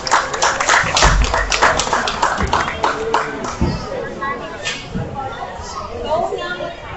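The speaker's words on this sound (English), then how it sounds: "Congratulate them with a big round of applause" Audience at a county fair and rodeo livestock market show clapping in a burst of scattered applause that thins out after a few seconds, with crowd chatter and voices mixed in.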